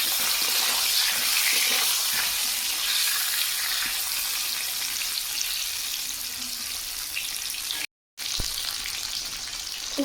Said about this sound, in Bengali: মাছ ভাজার তেলে আলু ভেজে নেবো